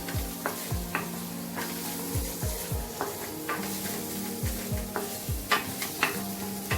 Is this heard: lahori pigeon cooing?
no